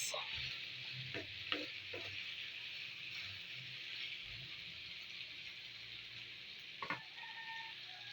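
Sautéed vegetables with luncheon meat and oyster sauce are stirred in a pan, a steady hissing sizzle throughout with a few soft scraping knocks from the spatula.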